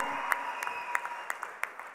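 An audience applauds at a film music launch event, a steady wash of clapping from a crowd heard at a moderate distance with a few sharper individual claps standing out.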